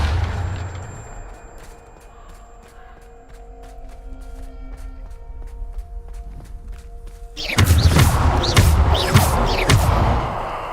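Bombarda explosion spell cast in Hogwarts Legacy, a loud burst of crackling blasts and thuds erupting after several quieter seconds of soft ambient game tones and faint impacts.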